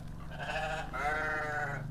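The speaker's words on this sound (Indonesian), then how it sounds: "Suara kambing gede, kenceng banget suara kambing" A large goat gives two loud, wavering bleats close by, the second longer and stronger, outdoors in a village setting.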